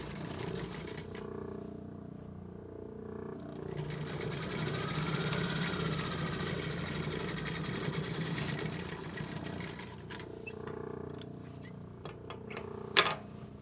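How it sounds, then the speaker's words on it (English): A sewing machine stitches the sleeve seam of a men's tailored shirt in a steady whirring run of about ten seconds, then stops, followed by a few handling clicks and one sharp knock. "I'm going to sew the sleeve seam"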